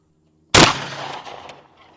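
A single deafening .50 caliber sniper rifle shot fired at an engine block, a sharp close blast followed by a rolling outdoor echo that fades over about a second and a half.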